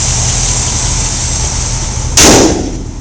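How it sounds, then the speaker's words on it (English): A Cadillac Sedan DeVille engine idling, heard close up from the engine compartment as a steady, smooth low rumble, broken near the end by one brief sharp clack. "I'm in the engine compartment here, and the engine just purrs."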